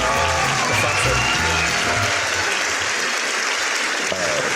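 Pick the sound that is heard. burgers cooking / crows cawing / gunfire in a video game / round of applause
round of applause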